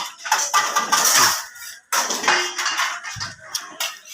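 Dishes and bowls being washed by hand, with ceramic and metal clatter, clinks and scraping in bursts and a short pause partway through.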